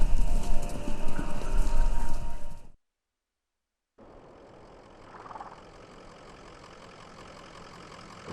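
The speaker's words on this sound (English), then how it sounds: "Oh no! I've summoned horses." Horses clip-clopping in the video game Kentucky Route Zero: a loud burst of hooves and rumble, a sudden silence, then a fainter, steady continuation.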